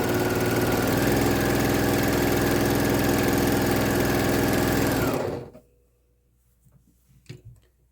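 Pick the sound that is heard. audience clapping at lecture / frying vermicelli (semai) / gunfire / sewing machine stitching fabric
sewing machine stitching fabric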